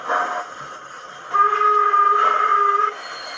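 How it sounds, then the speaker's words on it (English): A sustained, high-pitched brake squeal from a Hornby Black 5 model steam locomotive, steady and fairly loud for about a second and a half before cutting off. "Brake squeal."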